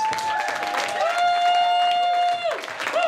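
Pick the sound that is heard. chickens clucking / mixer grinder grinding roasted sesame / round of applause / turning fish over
round of applause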